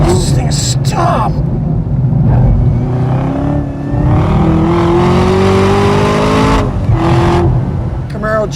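A Camaro with a manual shifter races around Laguna Seca in Gran Turismo 7, its engine droning and rising in pitch through long pulls, loud and steady, while someone talks over it.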